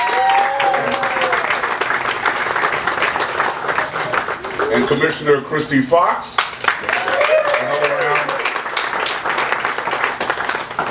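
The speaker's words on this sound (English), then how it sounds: "please give her a round of applause." Audience applause for city commissioners at a tennis center opening celebration, sustained and fairly loud, while a voice on a loudspeaker announces a name over the clapping.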